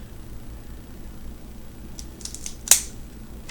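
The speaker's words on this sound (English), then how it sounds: "Let's go ahead and cut this one. I like cutting it twice actually to where I get a better draw." A cigar cutter snips the end off an LFD Air Bender Maduro cigar: soft rustling handling, then one sharp, close snap.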